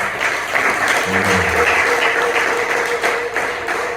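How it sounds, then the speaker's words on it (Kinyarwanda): Sustained crowd applause for a preacher at a church gathering in Rubandaga, Uganda, steady and full throughout with a few voices and cheers mixed in. "mufashe tumukomera amashyi"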